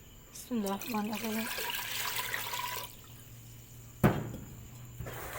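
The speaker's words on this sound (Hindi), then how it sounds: "देख, अब इसके अंदर पानी डालेंगे।" Water poured into a cooking pot on a lit stove, a running liquid splash under a voice talking nearby, followed by a sharp clank and quieter clatter.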